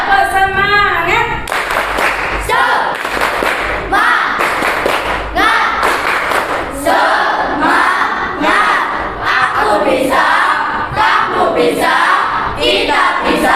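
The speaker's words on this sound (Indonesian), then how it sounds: "ayo kita tepuk semangat" Schoolchildren in a classroom perform a rhythmic clapping chant, shouted syllables punctuated by sharp group claps in a patterned beat, loud and close, with a teacher's voice leading at the start.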